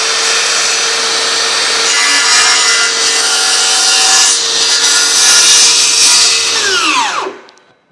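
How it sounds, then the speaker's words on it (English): A saw cuts loudly and steadily through wood, trimming the top of a steel-framed, wooden-top shop workbench. The continuous rasping runs for about seven seconds before winding down and stopping. "I'm just going to run this saw right down here and trim this up."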